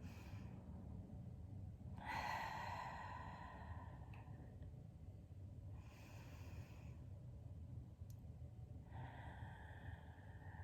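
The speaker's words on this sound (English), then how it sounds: "taking a nice deep inhale from the root of the spine up into the chest, and then an open mouth exhale" Slow deep breathing, a long inhale drawn into the chest followed by an open-mouth exhale, with soft airy breaths repeating about every few seconds, faint and close, without speech.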